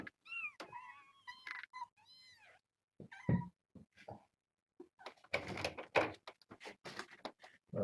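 A mother cat and her kittens meow in a morning setting, with several short, high mews early on, then scattered softer sounds and a burst of broadband rustling or movement, all close and fairly quiet.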